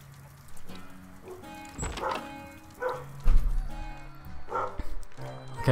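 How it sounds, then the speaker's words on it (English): A dog barking and yipping a few times at close range, mixed with faint tonal video game sounds and light talk. "I don't know if the barking from the game set the dog off."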